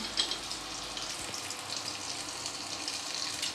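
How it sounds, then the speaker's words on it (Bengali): Potato pieces for chicken biryani fry in hot oil, giving a steady close hiss and crackle of bubbling fat throughout, with no voices. "বিরিয়ানির আলুগুলো আগে ভেজে তুলে রাখবো"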